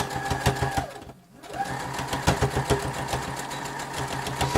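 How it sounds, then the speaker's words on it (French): A sewing machine stitches through thick, many-layered denim for a reversible basket, a loud close rhythmic mechanical chatter that briefly halts, then resumes at a steady pace. "Maintenant, je reprends un point normal. Donc, je couds."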